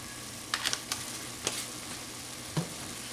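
Ground beef frying in a pan, seasoned with garlic powder, with a steady low sizzle and a few short scraping stirs from a utensil close by, no talking.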